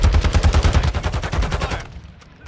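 Rapid automatic gunfire from the ISO Hemlock rifle in Call of Duty on Ashika Island, a loud, dense burst of close shots lasting about two seconds before it cuts off and a quieter background remains.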